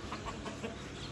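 A hen clucks softly in a few short, faint bursts against quiet background noise, with no talking.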